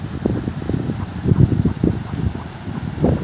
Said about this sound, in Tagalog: Ang lakas ng hangin, malalaki pang alon guys.